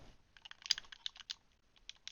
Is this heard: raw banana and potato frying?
no